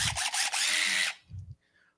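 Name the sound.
power drill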